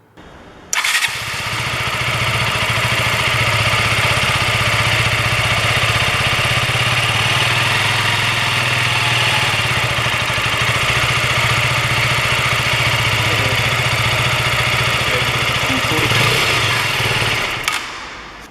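A KTM RC 125 BS6 sport motorcycle starts up and then idles with a steady, close, even engine drone for about seventeen seconds before it cuts off, with no talking.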